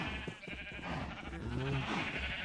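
Sheep bleating in Minecraft, a short wavering bleat near the middle over a steady backdrop of game ambience and music, with no talk.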